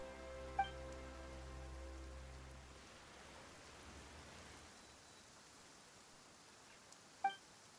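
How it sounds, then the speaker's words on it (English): Rain falls in the video game Genshin Impact as a soft, steady hiss that fills the scene once sustained musical tones fade out, faint throughout, with a couple of brief knocks. "Why is it raining all of a sudden?"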